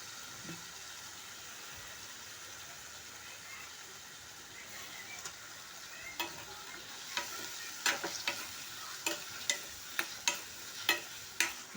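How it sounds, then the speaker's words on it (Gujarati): Chopped potatoes being stirred in a frying pan for a potato and brinjal curry, a soft steady sizzle broken by a series of sharp spoon scrapes and clicks that grow more frequent toward the end. "બટાકા બધા નાખી નાખી જાય પછી તેને હલાવી લઈશું આપણે"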